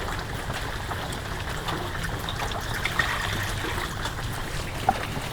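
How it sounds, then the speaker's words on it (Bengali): Water runs steadily into a cooking pot set on the stove for boiling eggs, a continuous low trickling pour with no voices over it. "পানি দিয়ে দেই,"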